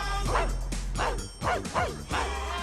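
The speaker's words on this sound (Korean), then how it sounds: "맨인 블랙 2에서 미친 존재감을 드러냈던 말하는 강아지 프랭크" Dog barking from the Men in Black films, where the dog is a talking character: a run of about five sharp, close barks and yips in an uneven rhythm over a low steady hum.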